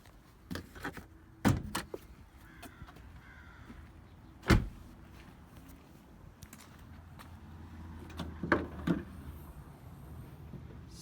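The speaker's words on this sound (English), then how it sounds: "we'll be popping the hood." A car hood is released and lifted with several sharp mechanical clunks and clicks. One loud thud stands out midway, with a softer rattle later over a low, quiet background.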